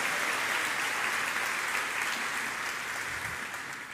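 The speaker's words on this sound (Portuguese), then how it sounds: "dá uma salva de palmas ao Senhor" A church congregation claps together in a dense, sustained burst of applause that fills the room and fades slightly toward the end.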